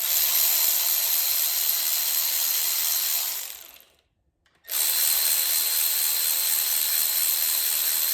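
A hand ratchet unbolts the connecting rod bolts on an Audi VW 2.0T engine during a teardown for oil consumption, a steady rapid clicking up close that stops for about a second and then resumes.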